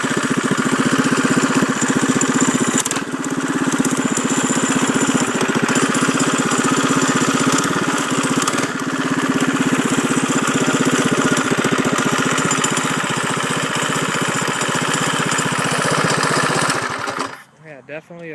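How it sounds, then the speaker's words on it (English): A Predator 212 engine on a bobber mini bike runs loud and close with a steady rough idle chatter, holding for most of the time before cutting off abruptly near the end. "definitely a snappy little motor in that bike for sure"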